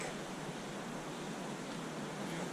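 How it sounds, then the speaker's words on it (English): Illilouette Creek in Yosemite rushes in a steady, broadband wash of whitewater, continuous and fairly close with no pauses or voices. "So this is Illilouette Creek."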